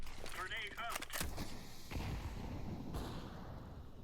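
Grenade blast in a first-person shooter game, a sharp burst followed by a rumbling decay and a second thud, faint and distant, after brief talk.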